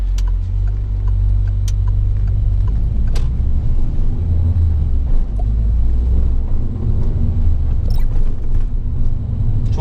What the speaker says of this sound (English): now I can hear your revs on, I can feel your bite.